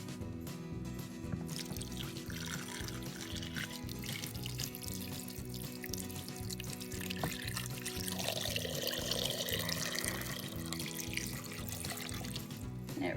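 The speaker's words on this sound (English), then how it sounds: "so that's 8 cups of water that I've added" Tap water runs steadily for several seconds, pouring into a pressure cooker pot being filled for broccoli cheese soup, close and fairly quiet with no talk.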